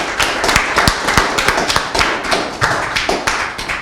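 Loud, close applause at an official ceremony, with many sharp handclaps and heavy taps forming a busy, uneven patter with no voices over it.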